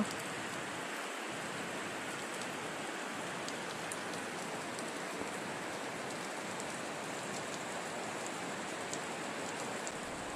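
Heavy rain pours steadily in front of houses, a dense continuous hiss with scattered drops ticking on surfaces, fairly even in level throughout.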